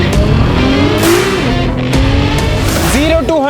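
A Nissan GT-R R35 accelerates hard from the driver's seat, its engine note climbing in rising sweeps with gear changes and a final high rev, loud and close, with excited voices mixed in.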